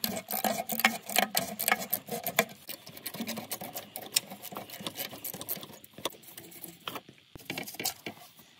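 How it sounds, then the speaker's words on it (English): Three 10 mm bolts come off a heat shield on a 2011-2017 Chevy Equinox or GMC Terrain exhaust, with faint rapid ratchet clicks and scraping metal taps continuing close by. "Now remove the three 10 millimeter bolts holding on this heat shield."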